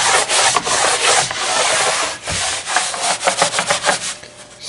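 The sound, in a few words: belt sander sanding a pine desktop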